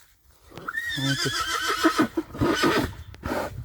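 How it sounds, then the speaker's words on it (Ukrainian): A mare neighs loudly and close by, a long shrill whinny that rises and shakes, followed by a few shorter snorting calls. "а лоша лише Микола залишив вдома і воно зараз рветься за лошами"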